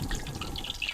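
Cooking oil poured into a pan for frying kurkure chicken shawarma: a brief, soft, close trickle and splash of liquid.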